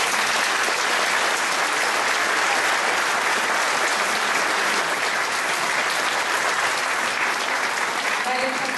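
Sustained, loud applause fills a political election convention hall in Ljubljana for a presidential candidate, a dense, even roar of many clapping hands with crowd noise mixed in.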